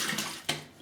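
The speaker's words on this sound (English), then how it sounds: "Let me rinse and come back for pass number 3, cold water rinse." Cold running water from a tap splashes as a shaving brush is rinsed, a short, close, hissing gush with brief sharper spurts.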